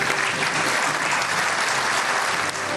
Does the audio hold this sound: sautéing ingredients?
no